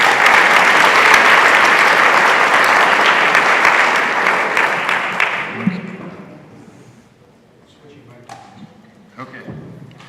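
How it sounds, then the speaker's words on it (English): Loud applause from a commencement crowd at a School of Business honors celebration, a dense sustained clapping that fades out after about six seconds, leaving a quieter room with a few scattered claps and taps. "But please give a round of applause"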